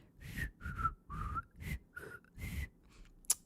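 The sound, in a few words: whistling without fingers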